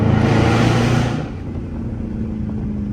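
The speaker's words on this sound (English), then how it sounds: "Y'all don't understand how loud this car is." Dodge Charger RT accelerating hard on a highway, a loud roaring engine pull that drops off about a second in, leaving steady road rumble and engine drone.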